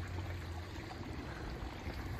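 Small creek flowing on a farm, a steady faint wash of running water with no distinct events and no talking.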